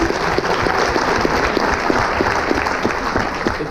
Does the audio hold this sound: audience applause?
yes